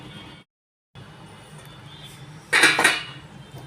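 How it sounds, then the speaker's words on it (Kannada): A lid goes onto a pan of pigeon peas upma to cook it over low heat. One brief, bright metallic clatter rings out near the end over a faint low background hum. "ಮುಚ್ಚಿ ಉರಿಯನ್ನು ಸಣ್ಣ ಮಾಡಿ ಬೇಯಿಸೋಣ"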